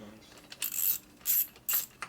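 A ratchet tightens bolts on the top end of a custom S&S Evo Harley motor mock-up. It gives three short bursts of quick, bright clicking, close and fairly loud, with quiet gaps between them.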